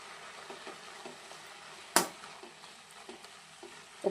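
Amaranth leaf curry is stirred in a hot pan, with soft scraping and bubbling strokes and one sharp utensil clack partway through, all close and quiet.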